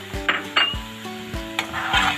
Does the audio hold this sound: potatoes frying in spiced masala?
yes